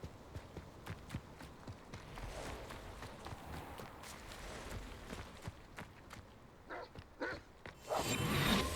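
Dogs bark in Hogwarts Legacy, short woofs scattered among steady footsteps and ambient game sound, growing louder and denser near the end.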